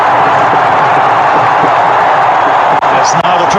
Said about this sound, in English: That's now the crowd beginning to cheer.